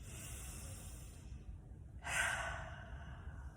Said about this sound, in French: Et de faire une inspiration rapide avec les poumons pleins et de laisser aller par la bouche.